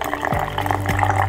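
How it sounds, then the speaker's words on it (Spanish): Sparkling water, preferably ice-cold, poured from a small bottle into a jug holding a strained cocktail mixture: a steady liquid fill with fizzing texture and gurgling sweeps, close and continuous. "le vamos a agregar una botellita de agua con gas, preferiblemente helada"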